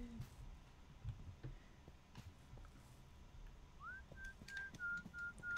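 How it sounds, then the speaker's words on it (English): Whistled tune from a player character in the horror video game Devour, a clear rising then sustained melody entering partway through over low game ambience and rumble, no talk. "Who's whistling?"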